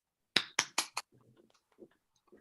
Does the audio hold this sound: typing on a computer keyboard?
no